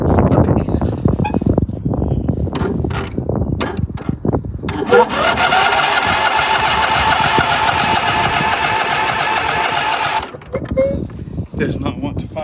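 A vehicle engine on an abandoned homestead cranks with a steady whirring starter for several seconds but fails to fire, preceded and followed by loud nearby talking and handling noises.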